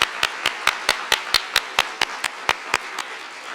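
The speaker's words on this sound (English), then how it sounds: "Please join me in another round of applause for Dr. Win." An audience at a Department of Justice heritage month ceremony applauds, heard as distinct, evenly spaced claps about four per second, clear and fairly close rather than a dense crowd roar.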